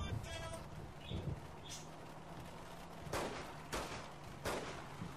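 Rapid gunfire bursts from the video game Saints Row the Third, several sharp shots clustered in the second half over a low steady game backdrop, with someone talking faintly in the first part.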